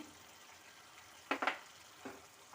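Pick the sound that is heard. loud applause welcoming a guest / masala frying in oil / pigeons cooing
masala frying in oil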